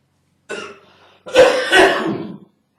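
A man coughs twice, a short rough cough followed after a brief pause by a longer, louder hacking burst, heard close and alone with no speech.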